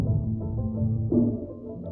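Music run through a low-pass filter set at 600, leaving only a muffled, bassy wash of sustained tones with the highs stripped away, playing steadily at moderate level with no voices.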